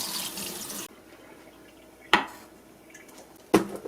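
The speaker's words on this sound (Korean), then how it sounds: "물 버리고 헹궈줍니다." Water gushes out as shelled sea snails are drained and rinsed in a kitchen sink, a steady rush that stops abruptly, followed by two sharp splashing clatters of rinsing, close and fairly loud.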